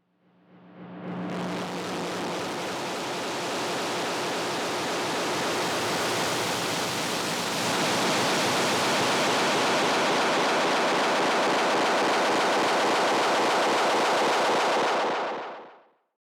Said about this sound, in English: I want to show you what the pedal sounds like in feedback.